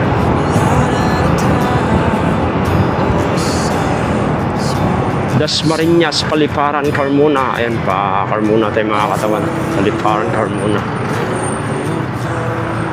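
Heavy afternoon road traffic around Dasmariñas, Paliparan and Carmona, with a steady rumble of buses and trucks and occasional hissing bursts beneath someone talking continuously.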